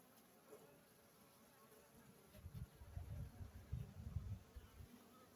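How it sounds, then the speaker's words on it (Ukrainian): Honey bees crawl and buzz on hive frames during a pre-winter hive inspection, a faint low hum that rises and swells in the second half, close to the hive. "Ось тут ці бджолки бігають."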